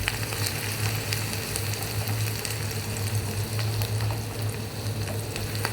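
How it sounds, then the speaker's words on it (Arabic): Onion frying in a pan for an oven-baked egg dish hisses steadily and loudly, with a constant sizzle and occasional scraping from stirring, and no voices over it. "هنا بقى البصل نقلبه، احنا عايزينه ياخد لون ذهبي كده بسيط."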